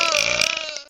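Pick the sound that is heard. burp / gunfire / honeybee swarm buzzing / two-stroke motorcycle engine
burp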